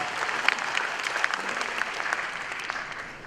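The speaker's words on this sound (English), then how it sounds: "Please give her a round of applause." A conference audience at a plenary session applauds, a crowd's steady clapping at moderate volume with a few sharper individual claps standing out, easing off slightly toward the end.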